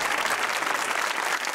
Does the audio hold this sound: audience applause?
yes